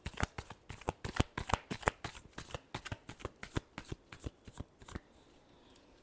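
Tarot cards are shuffled by hand in a quick rhythmic series of crisp riffles and slaps, close and clear, about two dozen strokes before stopping.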